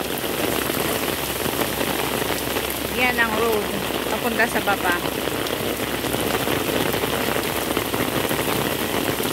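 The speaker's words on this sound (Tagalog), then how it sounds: "lalo na ngayon na umuulan." Heavy rain patters steadily on surfaces around a street in Hong Kong, a constant dense hiss, while a person briefly speaks over it.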